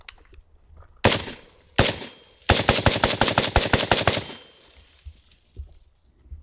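5.56 rifle shots from a Bushmaster ACR or PSA JAKL: two separate loud shots, then a fast string of about a dozen evenly spaced shots, sharp and close.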